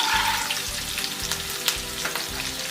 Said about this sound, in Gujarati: આપણે 1 થી 2 મિનિટ માટે સાંતળી લઈશું।